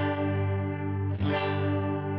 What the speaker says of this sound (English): So that's a very chorusy sound.